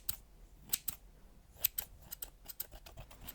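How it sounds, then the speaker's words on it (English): Scissors snip open a paper prediction envelope up close and quietly, a quick run of crisp cuts coming in irregular bursts with short pauses between them. "I do have with me some scissors."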